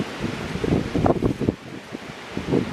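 Strong gusting wind roars through the woods, surging and buffeting in loud broadband bursts, close and continuous with rustling, no talk.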